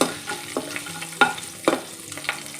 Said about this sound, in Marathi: यानंतर आपल्याला घालायचं आहे अर्धा इंच आलं ठेचून घेतलेलं हे चांगलं परतून घ्यायचं आहे आपल्याला